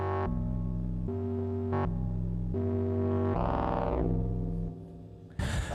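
Buchla Easel synthesizer producing hypnotic, unusual tones: loud, buzzy drones that switch pitch in stepped phrases, with a swirling, sweeping passage in the middle and a sharp burst at the end, without speech.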